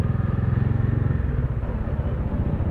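A Dominar 400 motorcycle engine idles nearby in traffic among other motorcycles, a steady low throbbing rumble with a brief rise partway through, no talking.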